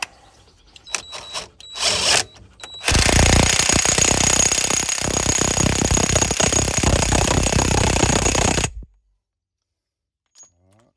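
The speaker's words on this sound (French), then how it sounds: "Le cardan qu'on va serrer au pistolet." Impact wrench drives the driveshaft nut on a Citroën C5 with a 36 mm socket: after a few short taps and bursts, one loud continuous hammering run of about six seconds stops abruptly, followed by silence.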